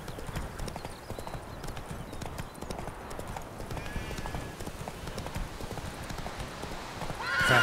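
Horse hooves clip-clop at a steady gallop through The Witcher 3, continuous and close, with a brief whinny breaking through near the end as the pace swells louder.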